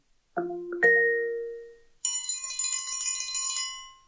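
Alexa smart speaker announcement chime: two bright, close bell-like tones ring out and decay, followed by a shimmering, tinkling run of high chime notes, with no voice.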